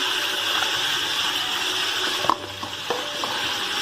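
Loud, dense sizzling fills a hot pan as garlic and ginger fry for beef nihari, then briefly dips as it is stirred, with a few clicks and scrapes near the end.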